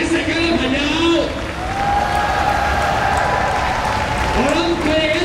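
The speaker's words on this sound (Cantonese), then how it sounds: "大家俾自己亦都俾掌聲鼓勵我哋" Applause from an audience at a nighttime student rally during a hunger strike, a steady dense clatter filling the whole stretch, with voices and tonal sounds mixed in over it.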